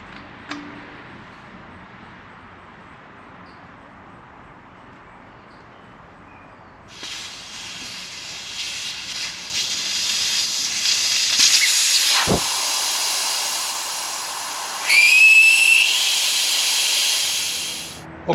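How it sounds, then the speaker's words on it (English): Air hissing out of a motorcycle tire as the valve core is pulled, with a quiet start, a sudden loud steady rush of escaping air, then a stronger burst near the end, alone without talk. "next you got to remove the valve core"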